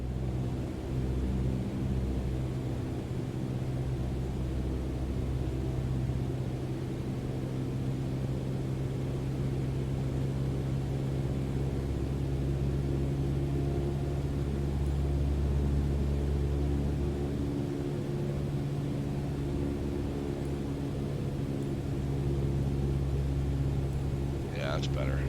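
Steady, close aircraft engine drone from a plane on final approach in Microsoft Flight Simulator, a continuous low hum with layered tones that holds throughout, with a slight lift in power partway through.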